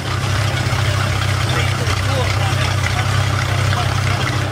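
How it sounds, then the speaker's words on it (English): A boat engine idling during warm-up before an oil change, a steady low rumbling drone held at constant loudness throughout, close by, with faint background noise. "now that we're done running the engine and warming it up so we can drain the oil"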